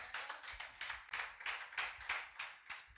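A church congregation claps in rhythm to acclaim the Lord, a quick even run of about a dozen sharp hand claps in three seconds.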